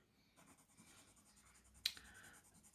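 Art pencils scratch across paper while colour is layered, a faint, close, dry scratching with one brief sharper tick near the middle.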